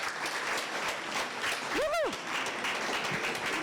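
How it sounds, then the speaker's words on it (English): A room of young people at a science outreach event claps steadily, a dense, moderately loud round of applause, with one voice letting out a rising, whooping cheer partway through. "Can you clap hands for the people who are online as well?"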